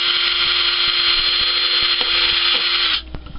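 A power drill whines steadily and loudly up close for about three seconds drilling plastic, then cuts off abruptly, leaving faint clicks and handling noise.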